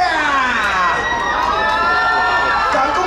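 An audience at a school street dance competition cheers and shouts as a team is welcomed on stage, a loud continuous crowd roar with an announcer's amplified voice over it.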